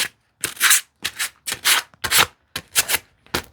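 Sandpaper rubs along the sharp corners of a wooden handle for a tenon saw kit, seven or eight quick, separate swipes in an even rhythm, close up with no talking.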